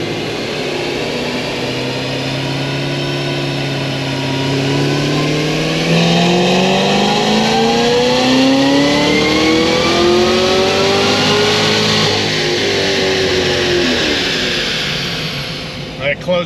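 A Stage 4 Cadillac CTS-V on a dyno, running added E fuel, roars through one long, loud wide-open pull whose pitch climbs steadily and then falls off as the throttle closes near the end.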